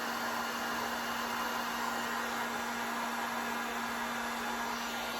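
A heat gun blows hot air over fresh stencil paint on fall decor, a loud, constant rushing whir with a steady hum, unbroken and alone for the whole stretch.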